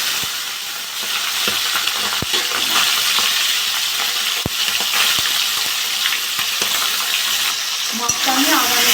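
Pangas fish sizzles steadily in hot mustard oil in a kadai, with sharp ticks and scrapes of a spatula cutting through the close, constant frying hiss.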